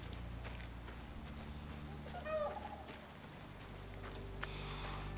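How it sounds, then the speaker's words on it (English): A horse in the survival game Icarus clip-clops with faint hoofbeats and a brief snort, heard quietly beneath a low ambient game drone. "And now I hear a horse."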